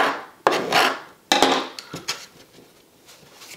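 A knife scrapes and rasps against a cut-proof glove in a few separate close strokes, each a rough gritty swipe, fading toward the end.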